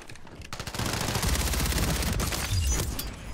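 Sustained rapid automatic gunfire in the Warzone battle royale, several weapons firing at once in dense overlapping bursts with heavy low booms, loud and continuous for several seconds.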